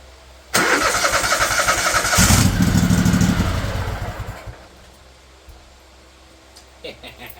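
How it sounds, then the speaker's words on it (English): A 20hp Kohler engine on a Craftsman LT1000 riding mower cranks over loudly for several seconds with a churning starter whir but does not catch, then falls quiet, followed by a faint click. "First start attempt on All Reliable with the new motor."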